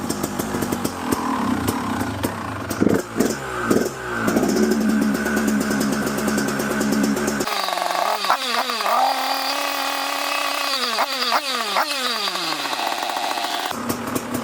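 A KTM 250 EXC dirt bike engine fires and settles into a fast, uneven two-stroke idle, with revving blips rising and falling close by; the engine runs loud and continuous throughout.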